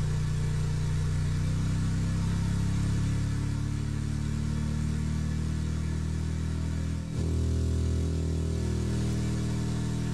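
Steam engine in the video game Steam Engine Simulator running at high RPM, a loud, steady low droning hum with a sustained tonal whine, briefly dipping once before resuming at the same level.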